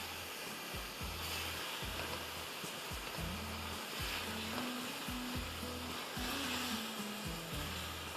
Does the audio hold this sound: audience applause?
no